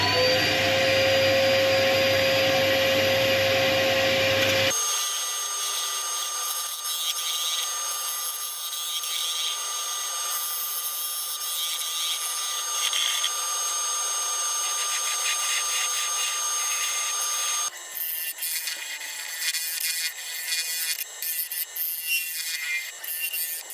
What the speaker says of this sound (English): one more quick sharpen up